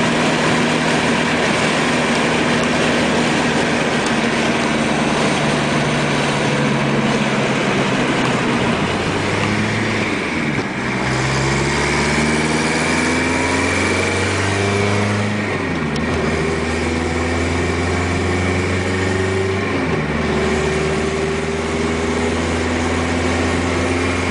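A diesel car engine running on vegetable oil drones loudly and continuously, rising and falling in pitch through several gear changes while driving, with no talk over it.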